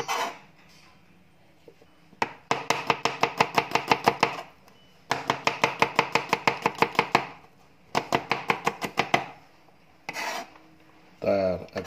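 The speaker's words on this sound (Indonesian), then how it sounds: "acara motong bawangnya tak sambung lagi ya" Onions being chopped with a knife on a board: bursts of rapid, rhythmic chops, each run of a dozen or so sharp knocks, separated by short pauses, close and loud with no speech over them.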